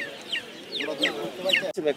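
A rooster at a weekly bird market in Putia gives several short rising clucks and crowing calls in a row, close by, with market voices mixed in around them.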